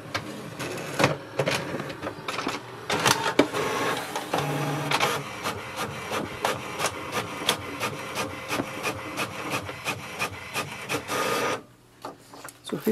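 An HP Envy 6200 printer makes a copy with a continuous mechanical whir and a steady run of rhythmic clicks and clatters. It stays close and loud for about eleven seconds, then stops abruptly.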